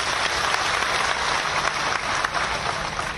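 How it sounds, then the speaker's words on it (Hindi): Thunderous applause from a large crowd at an outdoor BJP election rally in Bihar, a dense, steady roar of clapping that carries evenly and loudly through the whole stretch without letting up. "जब जब अनिल जी का नाम आता है तालियों की गड़गड़ाहट हो जाती है"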